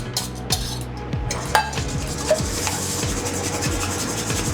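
Scrambled eggs with butter and cream stirred over a bain-marie, a steady rubbing scrape of utensil against the bowl with occasional light clinks, close and continuous with no talking.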